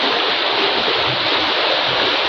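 A river stream flows in a loud, constant broadband rush of water, close and continuous, with no talking.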